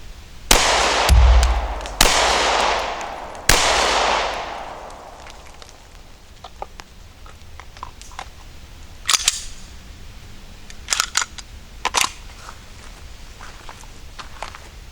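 Jacketed hollow point rounds fired from a handgun at a target, three loud sharp shots about 1.5 seconds apart, followed by quieter clicks and handling noises.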